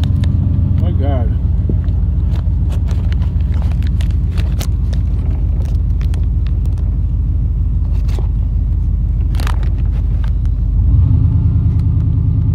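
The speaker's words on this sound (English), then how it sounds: "like so much traffic." Cars keep rumbling past along a street in a small residential neighborhood, a loud continuous wash of engine and tyre noise with a fresh surge near the end, and a voice talks over it.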